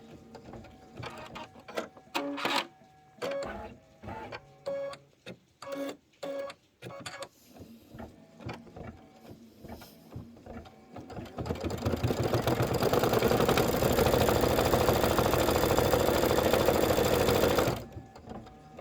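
A Baby Lock embroidery machine works through a design in choppy, rhythmic bursts of stitching clatter, then settles into a loud, steady whirring run that cuts off abruptly near the end.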